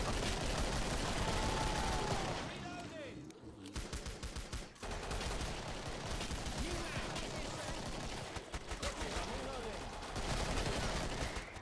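Gunfire in the video game Killing Floor on a Colosseum level, with bursts of rapid shots and sharp single cracks over dense game noise, plus a brief pause midway.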